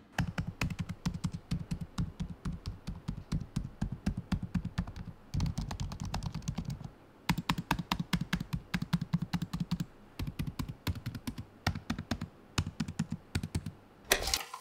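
Someone types on the keyboard of an Acer Swift Edge laptop with an AMD Ryzen 7 6800U. It gives rapid, continuous clicky keystrokes close up, with two short pauses and no talking.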